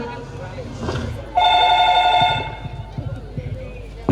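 A telephone rings for an incoming WhatsApp call, sounding as a single steady electronic tone lasting about a second amid talk and background noise.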